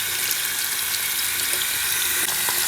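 Tap water pours steadily onto Magic: The Gathering trading cards being rinsed in a sink, a loud, even hiss of running water throughout with no pauses.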